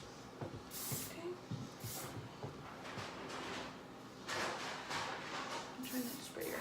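Hairspray sprayed onto hair while curling it into loose beach waves, heard as several short, close hissing bursts spread across the stretch, with quiet talking in between.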